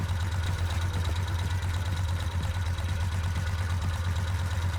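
A motorcycle engine idles steadily during a charging system test, a low, even rumble that holds at a constant pace and level for the whole stretch, with no other sounds.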